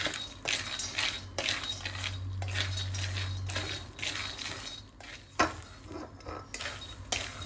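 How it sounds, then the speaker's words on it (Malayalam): Groundnuts are roasted and stirred in a pan, producing repeated close rattling sweeps and scrapes of nuts against metal in irregular bursts over a low steady hum. "ആദ്യം കപ്പലണ്ടി നമുക്ക് വറുത്തെടുക്കാം."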